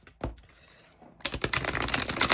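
Quick papery riffling of an oracle card deck, a soft flick near the start, then a dense run of crisp shuffling clicks filling the second half.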